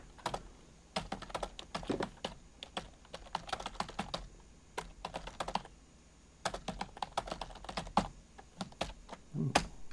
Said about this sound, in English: I'll type a question in about that right now.